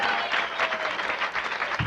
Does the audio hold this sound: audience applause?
yes